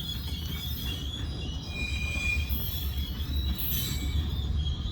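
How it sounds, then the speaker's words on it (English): A heavy loaded rock train grinds past nearby, steel wheels squealing and keening above a dense rumble of cars, with faint rhythmic clunks from the rail joints and no voices. "That's a heavy train."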